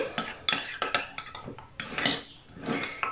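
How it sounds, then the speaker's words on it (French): A utensil works through seasoned ground meat filling with salt and herbes de Provence in a bowl, giving a string of close, irregular metallic scrapes and clinks against the dish. It sounds alone, with no talk. "je mélange le tout"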